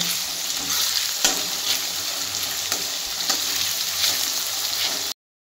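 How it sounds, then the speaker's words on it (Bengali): Onions frying and stirred through spices in a pan for Hyderabadi green chicken, a steady close sizzle with scraping stir strokes throughout, with no talk, before cutting off abruptly near the end. "এবারে আমরা ওটাকে ততক্ষণ মশলাতে থাকবো যতক্ষণ পেঁয়াজের রং সোনালি না হয়ে যাচ্ছে।"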